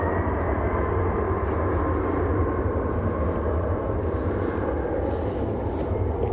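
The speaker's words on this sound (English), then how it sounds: "This Ryanair that's on the roll now is going out to Parma in Mallorca." A Ryanair jet on its takeoff roll at Manchester Airport gives a loud, constant broadband roar with no clear rise or break, heard from a distance.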